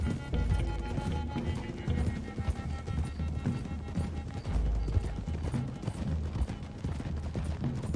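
Horses galloping in Red Dead Redemption 2, a rapid continuous clip-clop of several hooves on a trail with low rumbling game ambience, steady and close throughout.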